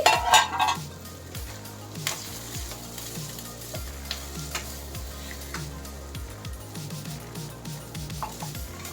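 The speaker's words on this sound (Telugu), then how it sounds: "మనం వండి పెట్టుకున్న బాస్మతి రైస్, ఈ రైస్ని మొత్తం వేసి బాగా కలుపుకుందామండి" Cooked basmati rice is stirred into a hot pan for capsicum rice, with a spoon scraping and knocking against the pan in a steady rhythm over a low sizzle, close up and without talk.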